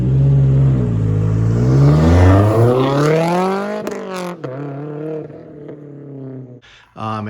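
A Subaru STI with a Delta Motorworks exhaust, no resonators or mufflers, revs up loudly with a rising, raspy engine note, then drops back to idle with short blips.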